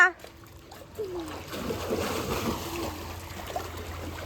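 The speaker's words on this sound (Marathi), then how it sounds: "गणेश जास्त पाण्यात खेळू नको" Splashing and trickling water with children's voices calling and shouting nearby, a busy outdoor play scene by the water on a family outing to a temple.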